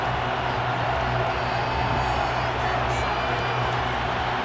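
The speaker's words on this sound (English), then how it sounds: "Plenty of shouts from this crowd as they watch the replay" A virtual stadium crowd in Madden NFL 23 roars steadily and loudly during a replay, dense shouting and cheering that fills the whole stretch without a break.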